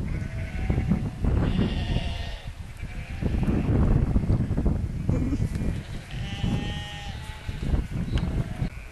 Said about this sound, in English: Sheep are coming up the field because they've seen the farmer there.